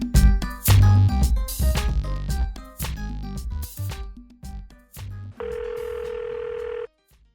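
A telephone sounds with a steady electronic tone of about a second and a half, coming after a stretch of loud music with hard hits and beats.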